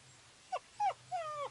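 Dog whimpering in the video game Nocturnal Visitors: three short, high, falling whines spaced about a quarter second apart, the last one drawn out, over a low steady background hum with no talk.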